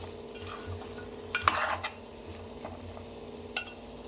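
Chili powder stirring and frying in a pan for goat head curry, a soft steady sizzle with a few scrapes and clinks of a spoon against the pan, close and moderately quiet, with no talking.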